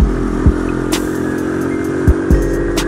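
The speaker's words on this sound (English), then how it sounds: "I always choose to ride this bike through the off-roading" A Trail 70 CT70 clone motorcycle ridden off-road, its small engine droning steadily up close with a few sharp clunks and rattles from the rough trail, no talking.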